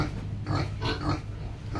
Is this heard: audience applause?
no